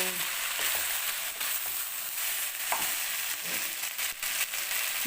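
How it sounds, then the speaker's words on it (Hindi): Potato fries frying in a pan, a continuous bright sizzle with occasional stirring clicks and scrapes, steady and close. "मैंने कहा चलो इनको पहले फ्राई कर लेती हूँ"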